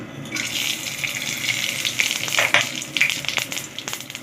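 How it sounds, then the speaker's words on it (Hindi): Cumin, black pepper and a piece of cinnamon crackle and sizzle in hot oil for a tadka, a steady frying hiss with sharp little pops scattered through, close and moderately loud with no talking. "तड़का लेंगे ज़ीरा और मसालों को"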